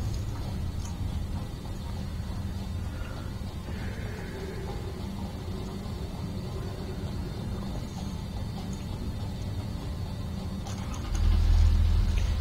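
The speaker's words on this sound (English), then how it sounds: "Sounds like a good old tractor." A tractor engine in the factory-building game Satisfactory runs steadily with a low, continuous rumble that holds even throughout, swelling louder near the end, with no talking.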